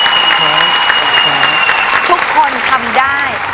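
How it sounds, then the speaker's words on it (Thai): A studio audience at a Thai televised dance and weight-loss show claps in sustained, even applause, with voices talking over it throughout. "ขอเสียงปรบมือให้เขาหน่อยค่ะ"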